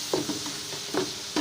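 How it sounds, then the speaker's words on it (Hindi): Minced meat (keema) stir-fried in a pan for a moringa flower keema dish, with a steady sizzle and a few scraping stirs of a spoon, near and fairly quiet, no talking. "अब हम इसके अंदर शामिल करेंगे कीमा शामिल करके, तो इसको हम अच्छे तरीके से भूनेंगे।"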